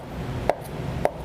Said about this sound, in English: I'm actually just chopping kind of straight down.